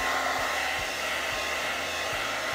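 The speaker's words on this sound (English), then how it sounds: "I'm going to go ahead and use this Revlon blow dryer." Revlon blow dryer running continuously while drying hair, a steady loud whooshing roar with slight regular low pulses.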